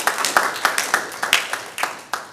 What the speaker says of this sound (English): They also can get a clap from you